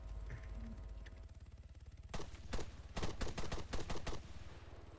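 Bursts of video game gunfire crack out in a quick cluster of sharp, loud shots over a steady low engine-like hum, beginning after a quieter stretch.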